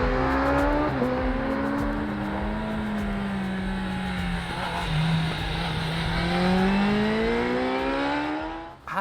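A 2021 Kawasaki Ninja ZX-10R sport motorcycle is ridden hard around a racetrack, its engine note loud and close, rising and falling in pitch through shifts and corners, with no talking.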